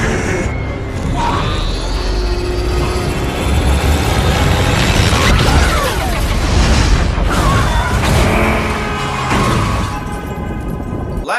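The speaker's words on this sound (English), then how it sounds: "The explosion leaves Happy in a lot of pain" An explosion in a Marvel Cinematic Universe Phase Two film scene makes a loud, sustained booming roar with rumbling, crackling debris that fills the whole stretch before easing at the end.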